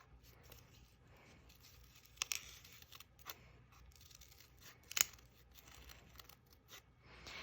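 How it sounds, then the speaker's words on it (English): Scissors make faint, sparse snips through folded paper while a paper snowflake is cut, with a corner being trimmed off. The cuts are quiet and separated by soft rustling, with no talking. "I think I'll snip this corner off"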